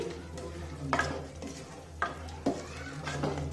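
A spoon stirs masala into tomato rice in a pot, producing several distinct scraping knocks at an irregular rhythm over a low steady hum, close by and without speech.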